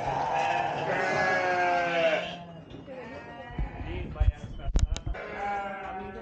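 Goats on a farm bleat close by in several drawn-out wavering calls, with people talking in the background and a few brief knocks and scuffs.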